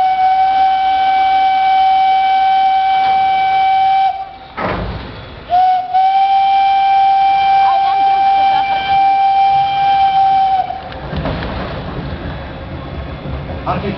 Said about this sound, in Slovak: Deti, tak sa zatrieskáme, nech nám tá mašinka trošku zapíska.